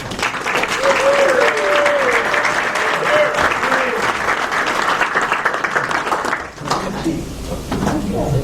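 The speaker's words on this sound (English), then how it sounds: "Let's give him a big round of applause." Dense audience applause fills a city council meeting for several seconds, loud and steady, with faint voices underneath before the clapping thins out near the end.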